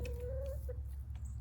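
A chicken clucks close by, a short burst of soft clucks and a brief higher call over a low background hum.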